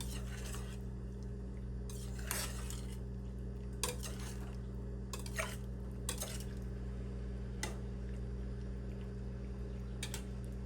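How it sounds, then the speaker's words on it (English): A spoon stirs Guatemalan chicken soup in a pot, giving faint, scattered clinks and scrapes against the metal over a steady low background hum, with no talking. "Stir that all in there."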